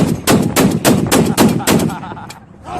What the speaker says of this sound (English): I'm going to be shooting right here behind him.